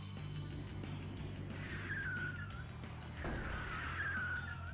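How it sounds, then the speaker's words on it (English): Cars arriving one after another in the video game Rose Guns Days, with engines rising and tires squealing faintly in the distance over a low steady hum, with no voices. "One after another, cars poured into the area surrounding the Millennium."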